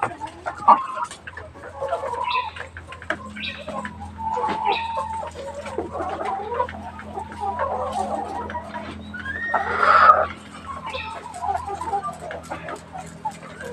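Laying hens in a backyard farm cluck and squawk repeatedly, close by, with a busy overlapping chorus and a steady low hum underneath.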